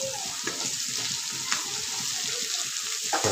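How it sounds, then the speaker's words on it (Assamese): Ginger, garlic and onion sizzle steadily in hot oil for a chicken dish, a close, continuous frying hiss with faint clinks and a brief water sound near the end. "আদা নহৰু পিঁয়াজ ভাজি আছে"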